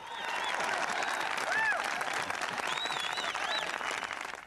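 Medical students cheer and applaud President Reagan at his appearance in 1983, a dense, loud crowd roar of clapping and shouting with whistles and voices rising over it throughout.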